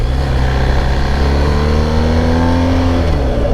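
A BMW GS Adventure motorcycle engine revs hard during a wheelie, a loud close roar rising in pitch with wind rush, continuous through the short stretch with no talk.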